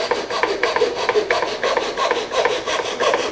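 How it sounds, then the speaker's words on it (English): Hand sanding of a wooden workpiece with sandpaper, steady rhythmic back-and-forth rasping strokes repeating about every quarter second, close and fairly loud with no voices. "Just take extra sanding."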